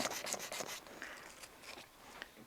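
Strokes of 240 grit abrasive against the metal of a rebuilt 1911 pistol, backed by a flat oak block: a quick run of close rasping passes, then sparser, fainter rubs trailing off, with no talking.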